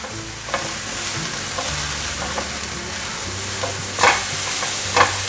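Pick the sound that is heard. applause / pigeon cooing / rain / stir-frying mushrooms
stir-frying mushrooms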